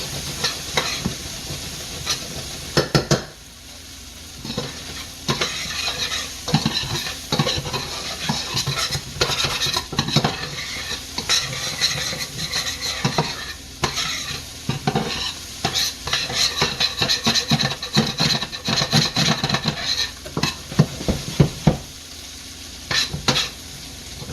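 Vegetables sweating in a pan for chicken cacciatore, with steady sizzling and frequent stirring scrapes and utensil clinks against the pan, close and continuous throughout.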